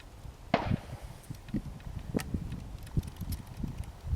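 An arrow leaves a bow at an outdoor 3D archery range, one sharp snap followed by soft scattered knocks and footsteps, moderately close.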